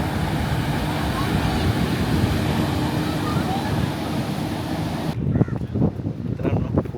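Ocean waves wash onto a Goa beach in a steady roar, heavily buffeted by wind on the microphone, with the surf growing choppier and more uneven toward the end.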